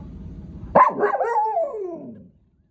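A single drawn-out dog vocalization, a bark sliding into a whining yelp, close and fairly loud, with no talking.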